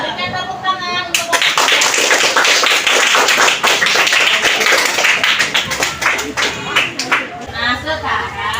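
A classroom of students applauds a student discussion group after its presentation, a dense burst of loud clapping that starts abruptly and thins into scattered claps near the end.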